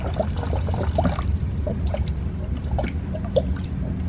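Fluid trickles and drips through the cooling system of a Honda S2000 fitted with a titanium coolant elbow during a flush, a steady close pouring wash with scattered drips and no talk.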